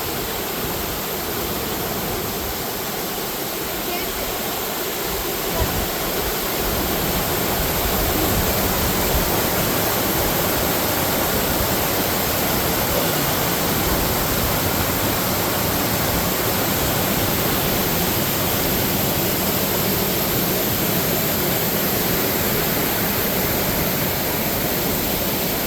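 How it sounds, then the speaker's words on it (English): Hebron Falls, a series of cascades on the Boone Fork Loop Trail, roars with a steady, dense rush of falling water, loud and close, unbroken for the whole stretch with no voices. "Yeah, Hebron Falls is a bunch of cascades"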